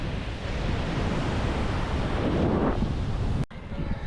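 Rough ocean waves surge and crash along a rocky Puerto Rico coastline, a loud, continuous roar of surf close by with wind buffeting the microphone and a brief cutout near the end.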